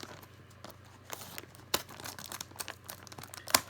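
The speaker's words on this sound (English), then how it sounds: "So let's get into this with these awesome new scissors." Scissors cut open a package from a thrift store jewelry jar, with soft crinkling of wrapping punctuated by a few sharp, close snips and tearing sounds, scattered and irregular over a quiet room.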